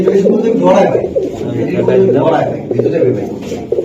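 Pakistani teddy pigeons coo in soft, rolling repeated calls close by, mixed with people talking over them throughout.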